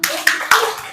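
A class claps a short chant pattern, three sharp close hand claps in quick rhythm within a second, loud and dry with no talking.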